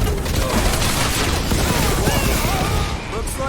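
Dense, continuous gunfire and explosions rage in the Marvel's Guardians of the Galaxy video game, loud and overlapping with booming blasts, while voices talk over the combat.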